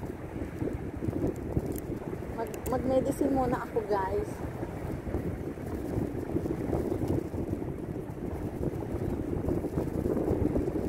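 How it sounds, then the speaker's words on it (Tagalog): Steady wind rushes over the microphone by the sea in Bahrain, a constant low roar, while a person speaks briefly near the start. "Dinadagan ko to kasi ang lakas ng hangin."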